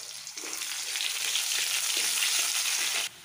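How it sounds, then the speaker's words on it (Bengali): Onions fry in hot oil with kalonji, giving a steady, close, loud sizzle that holds for about three seconds before dropping away. "তারপর এই পেঁয়াজগুলো একটু লাল করে ভেজে নেব।"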